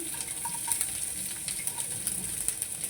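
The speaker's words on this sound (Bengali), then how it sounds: "এবার এটাকে নাড়াবো আস্তে আস্তে।" Chana dal, ginger, chopped chili and cashews frying in oil, a soft steady sizzle with light spoon scrapes and taps as the mix is stirred slowly, close and fairly quiet.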